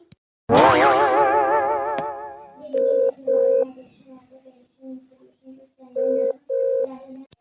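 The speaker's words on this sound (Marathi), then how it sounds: "बेल जाऊन राहिली पण फोन नाही उचलून राहिले" Ringback tone of an outgoing mobile phone call: paired electronic beeps repeating twice in steady cadence, each burst loud and clear, following a sharp electronic tone at the start, with no talking.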